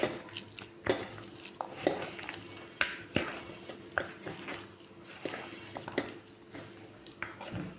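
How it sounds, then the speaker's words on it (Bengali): Food being mixed by hand with mustard oil, soft wet squishing and sticky slaps repeating at an irregular pace, close and quiet, with occasional light knocks against a dish. "এখন এগুলো সব মাখিয়ে নিব ভালো করে।"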